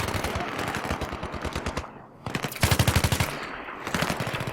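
Automatic gunfire in the Battlefield 3 campaign, rapid rhythmic bursts of close, loud shots with a brief pause near the middle before another heavy volley, then steadier firing continuing to the end.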